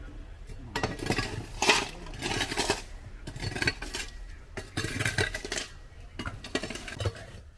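Metal pots and dishes are picked up and shifted in a household kitchen, giving scattered clinks and scraping clatter at a modest level, with occasional voices in the background.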